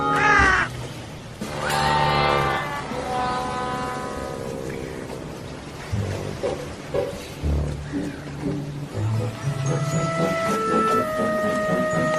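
Crows cawing outdoors in a series of harsh calls, fairly loud and near, with other bird calls and a tonal background sound layered in; no talk.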